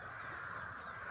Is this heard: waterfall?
no